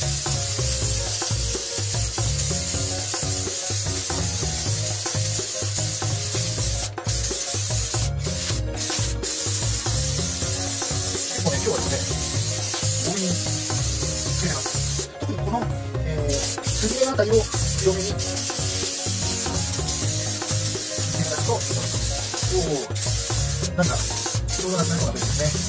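Spray adhesive hisses steadily from a can onto four wooden boards laid side by side for a folding table, a continuous broadband rush running loud and close throughout with brief breaks.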